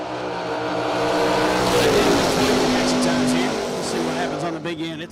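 Drag race cars launching at a strip, including a Corvette Roadster in the right lane, with a loud sustained engine roar that rises and holds, a tire-squeal-like tone midway, and a voice talking over it.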